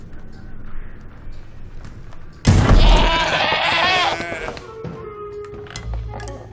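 A goat from the Goat Simulator 3 video game trailer lets out a loud, strained bleat lasting about a second and a half, rising abruptly above a low background hum and faint chatter.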